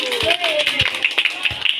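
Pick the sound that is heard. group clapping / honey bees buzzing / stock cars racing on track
group clapping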